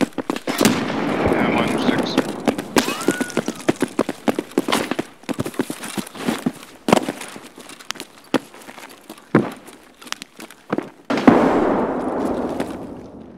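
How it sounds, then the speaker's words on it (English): Grenade explosions and gunfire in Escape From Tarkov: a run of sharp cracks and bangs, some rapid and others spaced, with a heavier rumbling blast near the end, mixed with voices talking over the action. "Grenades are coming out the windows."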